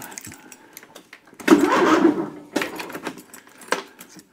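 A small engine, full choke and throttle all the way up, cranks in a few short, labored bursts on a weak battery, sluggish and uneven, with pauses and faint clatter between attempts.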